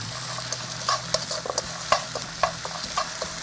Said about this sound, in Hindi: अनियंस को हम रोस्ट कर रहे हैं